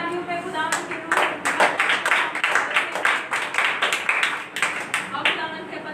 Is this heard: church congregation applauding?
yes